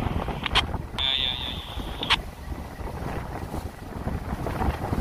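A motor vessel berthing at a pier with a tugboat assisting, heard as a low, steady rumble under heavy wind buffeting, with a brief horn-like tone sounding near the start.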